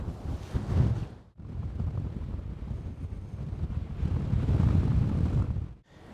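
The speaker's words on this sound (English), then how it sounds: "I'm trying to shield my microphone from the wind. It's very breezy" Wind blows hard against a microphone at an elevated outdoor spot, producing a loud, continuous low rumble and buffeting that swells and briefly drops out twice, with no talking.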